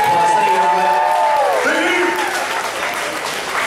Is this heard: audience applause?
yes